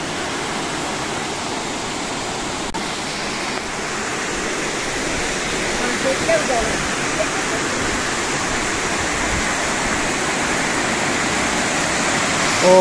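A waterfall at Third Falls in Sohra (Cherrapunji), a steady, full roar of falling water that stays loud and unbroken throughout with no voices over it.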